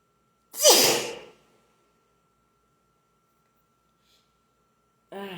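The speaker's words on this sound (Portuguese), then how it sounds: "Foi bom esse espirro" A single loud sneeze bursts out indoors, followed by silence and then a short snippet of a voice at the end.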